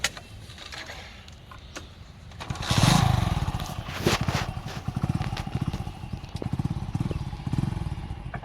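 Motorcycle engine revving and chugging close by, rising after a quieter start into a rhythmic, throbbing idle with bursts of throttle.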